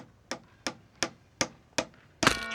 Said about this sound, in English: it's a man hitting his thumb with a hammer.